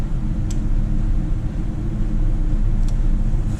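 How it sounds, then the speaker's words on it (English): Steering gear pump number 1 aboard a ship starting up and running, a steady low mechanical rumble and hum filling the machinery space, continuous and fairly loud with no talking. "So now we shall run steering pump number 1."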